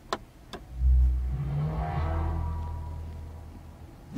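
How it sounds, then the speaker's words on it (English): A Mercedes-AMG EQS 53 electric car starts up with two sharp clicks, then its AMG-specific synthetic engine-like swell rises and fades into a low sustained hum. "when you turn the car on, it makes an AMG specific noise"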